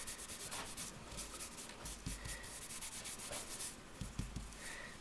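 Paper towel wiping ink off an embossed greeting card, a soft steady rubbing and scrubbing close up with faint papery swishes and a few light taps, continuous for several seconds with no talking.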